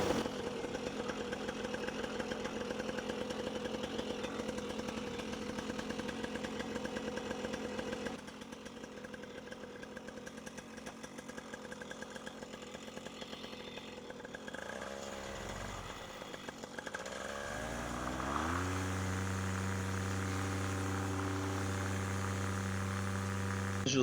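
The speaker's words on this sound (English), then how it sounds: "So we'll get the motor started again for attempt number 2." A paramotor's small two-stroke motor at Corona Arch buzzes steadily at close range, dips, then revs up with rising pitch before settling into a loud, even drone at higher power.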